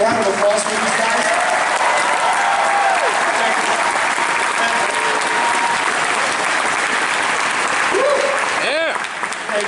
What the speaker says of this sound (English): would you give a great big round of applause for these guys?